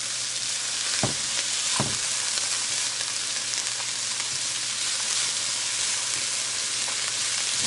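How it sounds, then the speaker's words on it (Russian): Carrots and onion fry in butter in a pan, a continuous close sizzle and crackle with a couple of brief louder bursts near the start, no talking. "Я сыпала в сковороду морковь и обжариваю вместе с луком."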